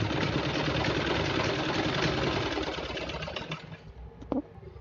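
A sewing machine stitches a fabric pocket onto a small handmade holder for ID cards or passport photos, a steady close whirring rattle that slows and stops near the end with a light knock.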